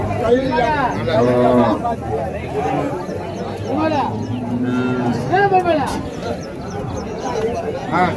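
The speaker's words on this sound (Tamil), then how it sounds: "ஒரு நாட்டு பசுமாடு கொண்டு வந்திருக்காரு" A native cow at a village cattle market moos repeatedly in long, loud, close calls. Steady crowd chatter and other livestock run underneath throughout.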